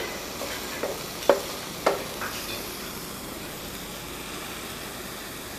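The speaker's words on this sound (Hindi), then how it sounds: "चम्मच मुसलसल हिलाते रहना है ताकि हलवा नीचे ना लगे।" A spoon stirs thick apple halwa in a pan over medium heat, giving a few soft scraping strokes in a quick cluster near the start, then fading into a faint, steady hiss.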